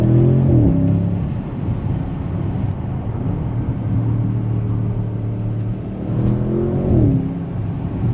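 An Audi S8 engine revs and rumbles loudly and steadily up close, its exhaust crackling with pops as the revs rise and fall, no voices over it.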